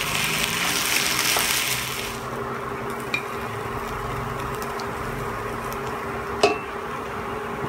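Hash browns sizzle softly in a pan on a turned-off burner while they are stirred with salt and pepper, a steady hiss that thins after a couple of seconds, broken by a few faint utensil scrapes.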